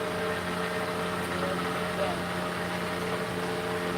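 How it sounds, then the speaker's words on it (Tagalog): A truck engine idles with a steady, even drone and hum, close and constant throughout, and a voice talks faintly over it. "Nakabuhay pa makina mo ah."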